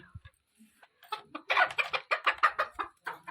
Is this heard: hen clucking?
yes